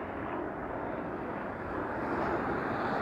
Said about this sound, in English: There goes an orange helicopter.